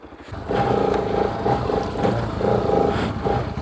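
A motorbike engine starts up and runs with a steady, close rumbling drone on a mountain road ride toward Guwaas, with slight rises in throttle and no voices.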